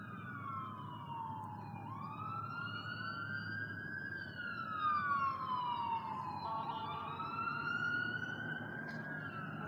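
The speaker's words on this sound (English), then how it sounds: "He's like making some weird noises with his siren." A police siren wails in the distance, its pitch sweeping up and down in uneven, odd-sounding glides over steady background hum.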